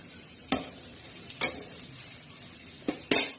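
A tadka for moong dal crackles as red chili powder goes in, a quiet sizzle under four sharp, separate spoon clinks and stirring strokes.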